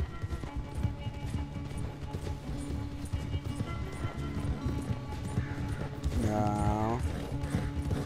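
Horse hooves clip-clopping at a run in the video game Red Dead Redemption 2, a rapid, steady rhythm under constant talking, with a brief neigh-like tonal sound near the end.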